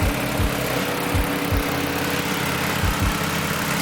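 A K20-engined Civic race car idles steadily with a low, even rumble and occasional soft thumps in its rhythm.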